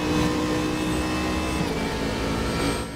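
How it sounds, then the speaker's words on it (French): Ford GT race car engine in RaceRoom, a loud continuous high-revving roar with whining harmonics, held close and steady for a few seconds before easing slightly at the end. "La Ford GT qui est extrêmement rapide."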